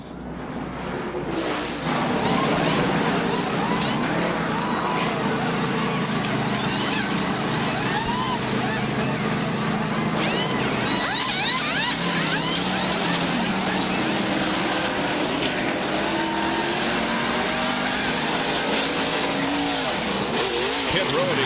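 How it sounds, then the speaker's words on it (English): NASCAR race cars roar into a corner, engines loud and continuous with pitch shifts and brief tire squeal, while a commentator talks over the racing noise. "look at him gain on Jeff Gordon going in the corner"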